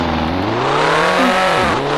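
A McLaren P1 in the Roblox game Car Dealership Tycoon revs and accelerates, engine pitch climbing then dipping sharply around a gear change, loud and continuous with no talk.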